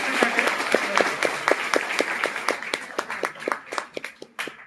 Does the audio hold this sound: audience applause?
yes